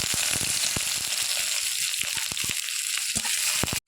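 Chopped onion frying in oil in an egg-frying pan, a steady close sizzle broken by scattered crackles and light stirring clicks, with no one talking.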